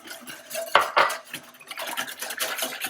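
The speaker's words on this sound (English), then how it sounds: "I'm going to go ahead and stir those up with my whisk" A wire whisk stirs instant pudding mix in a bowl, giving a steady run of light metallic clinks and scrapes with a couple of sharper knocks against the bowl, close and alone.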